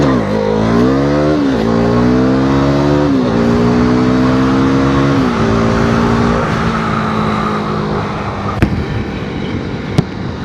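A KTM Duke 390 single-cylinder motorcycle, 44 bhp and 165 kilos, revs hard on an open road, its loud rasping engine note climbing through several quick gear changes and easing off near the end, close and steady.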